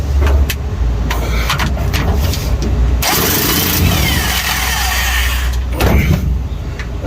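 A big impact wrench hammers loose the rear transmission mount bolts during a rebuilt transmission install, a loud rattling burst lasting a few seconds amid nearby garage noise and engine-like rumble.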